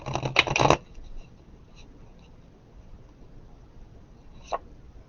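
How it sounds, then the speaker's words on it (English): A deck of tarot cards is shuffled at close range in one quick riffling burst of under a second, followed by near silence and a single faint tap. "Let me do a quick shuffle for you."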